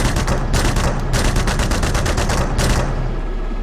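A Gepard anti-aircraft gun in DCS World fires rapid automatic bursts, a fast steady hammering of shots in two strings with a short gap between them, loud over a constant low engine rumble.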